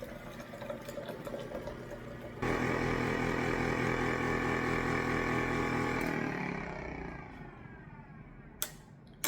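A kitchen machine spins thick homemade plant-based coffee creamer, starting with a sudden loud steady whirring drone that holds for several seconds and then winds down, followed by a couple of sharp clicks.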